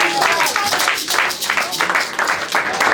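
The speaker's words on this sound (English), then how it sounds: "If you are clapping for Jesus, you can do better." A congregation at a Christmas Day church service claps loudly in a dense, slightly uneven rhythm, the sustained clapping of many hands filling the room with faint voices mixed in.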